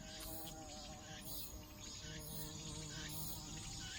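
Hornets buzz and drone close by as they come out of a trap, with a steady hum under repeated pulsing chirps, faint and continuous.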